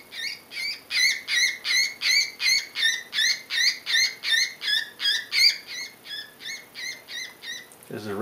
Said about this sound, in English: This is Woodpecker.